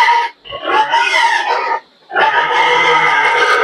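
Pigs squeal and grunt loudly and continuously at close range while being given washed leaves after their feed, with two short pauses breaking the noisy bursts.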